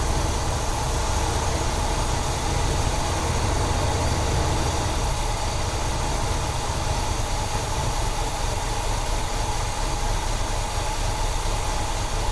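A 1972 Buick GS Stage 1 engine idles at a lowered idle speed, giving a steady, unbroken rumble that stays even and fairly loud throughout, with no voices.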